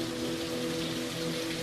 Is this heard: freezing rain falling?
yes